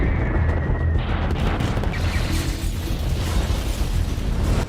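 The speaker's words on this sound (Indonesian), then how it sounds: "Bazanga ngamuk lagi cuy dengan menembak asal-asalan ke gedung di sekitarnya" Explosions boom as the monster Bazanga fires at surrounding buildings in an Ultraman Blazar battle, a dense, continuous roar of loud bursts and rumbling blasts filling the scene.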